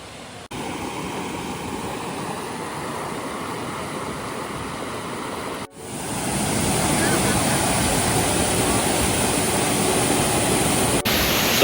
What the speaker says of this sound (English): So obviously there's a waterfall right here